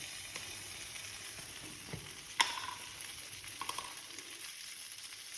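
Okra frying in a pan for an Indian buttermilk curry, a faint steady sizzle with a couple of soft clicks and stirring touches in a quiet kitchen.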